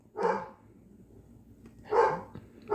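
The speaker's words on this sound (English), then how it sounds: "my dog likes to bark a lot. Why are you always barking when I'm filming?" A dog barks three times, single sharp barks spaced about a second apart, close and fairly loud indoors.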